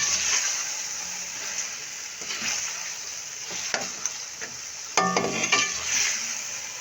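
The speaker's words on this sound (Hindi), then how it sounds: "अब अच्छी तरह से प्याजों को भी इसके साथ ही हम गोल्डन ब्राउन करेंगे।" Onions and chicken sizzle steadily in a pot for Sindhi biryani, with scraping stir strokes and occasional utensil clinks over the constant close frying hiss; no one speaks.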